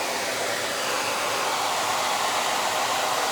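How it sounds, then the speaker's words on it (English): A hair dryer blows with a loud, steady rushing whir, constant and close, with no other sounds. "you won't have to hear this nasty hairdryer"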